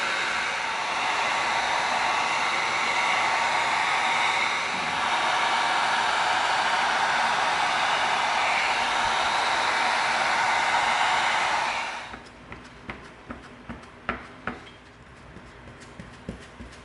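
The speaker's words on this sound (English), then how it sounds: "we're gonna heat seal these before we glue them" A heat gun heat-seals sheets of EVA foam with a steady, close blowing roar that runs for about twelve seconds, then cuts off, leaving scattered light taps and clicks.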